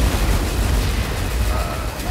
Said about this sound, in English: There's been lots of explosions and gunfire.